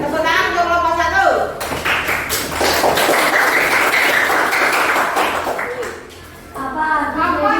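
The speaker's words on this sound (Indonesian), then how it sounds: "tepuk tangan untuk kelompok 1" A classroom of students claps for group 1, a burst of clapping lasting several seconds that dips briefly near the end, with children's voices before and after it.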